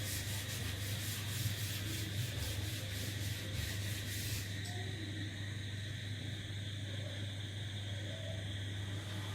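Close, steady scrubbing of a cloth or duster rubbing across a classroom board, a dry continuous rasp with a faint rhythmic stroke, alone without talk.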